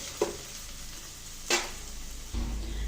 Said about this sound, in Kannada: ಎಲ್ಲ 1 ಸೆಕೆಂಡ್ 2 ಸೆಕೆಂಡ್ ಫ್ರೈ ಮಾಡಿಕೊಂಡ್ರೆ ತುಂಬ ಟೇಸ್ಟಾಗಿ ಬರುತ್ತೆ.